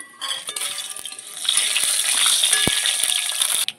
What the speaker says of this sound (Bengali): মাছ ভাজার তেলে আমি দিয়ে দিচ্ছি তেজপাতা ফোড়ন, শুকনো লঙ্কা,